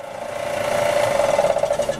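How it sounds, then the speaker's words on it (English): A belt sander grinding down one side of a wooden drone flute to correct its tuning, giving a steady, close motor whine with a fast rhythmic pulsing that builds slightly, no talking. "we're going to sand this side down so that it matches this side"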